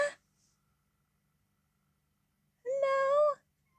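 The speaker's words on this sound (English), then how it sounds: "my cat. Kitty cat!" A small domestic cat gives a single clear, drawn-out meow up close after a brief sound at the start, with silence between.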